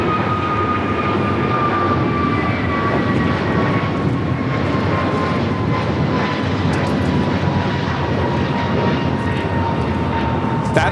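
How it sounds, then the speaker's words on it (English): American Airlines Airbus A321neo jet taking off from a big airport, bound for Miami, its loud broadband engine roar sustained throughout with a faint descending whine drifting across. "That is American Airlines 2447 taking off to Miami, Florida on the A321neo"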